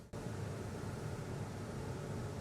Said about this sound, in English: So you can hear the air conditioning running behind me.